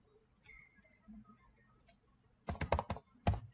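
Keys clacking on a computer keyboard as code is typed, a few faint taps early on, then a loud, close burst of rapid keystrokes followed by a short pause and one final cluster.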